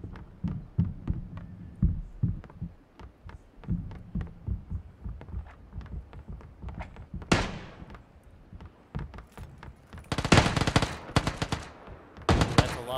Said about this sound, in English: That's a lot of gunfire.